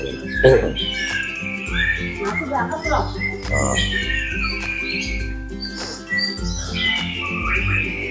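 Dozens of songbirds in training at a bird school in Tanah Abang, Jakarta, chirp and whistle in overlapping bursts nearby, with someone talking steadily over the birdsong.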